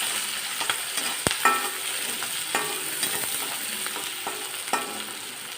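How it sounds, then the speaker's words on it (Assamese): Green chillies and onions frying in an iron wok for Assamese fish curry with brinjal, a continuous close sizzle broken by repeated scraping stirs of a spatula, no voices. "মই কেৰাহীৰ পৰা মাছখিনি নমাই থৈ ইয়াত জলকীয়া আৰু পিঁয়াজখিনি দি দিছোঁ। এইখিনি ভালদৰে ভাজি ল'ব।"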